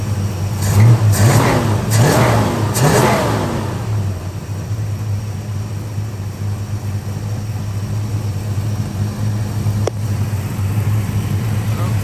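A 1965 Dodge Custom 880 sedan engine with a slight exhaust leak idles steadily with a low, even hum, briefly revving near the start before settling into a constant running drone.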